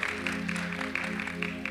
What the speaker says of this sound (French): est-ce qu'on peut leur donner encore une fois une bonne main d'applaudissement?